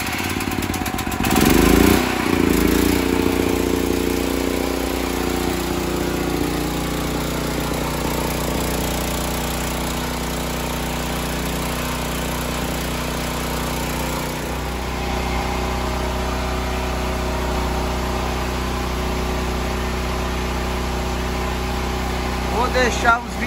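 A gasoline engine runs steadily after a rough start, a continuous low droning hum with a burst of noise at startup, with talking over it near the beginning.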